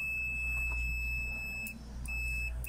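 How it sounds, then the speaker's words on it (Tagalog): A multimeter set to continuity test gives off its buzzer as a steady high electronic beep that cuts out twice for short moments, clear and fairly loud over a low background hum. "malakas pa naman yung buzzer niya"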